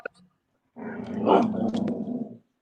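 A puppy gives a short yip, then a sustained rough growling bark lasting over a second, close and fairly loud, with no talking.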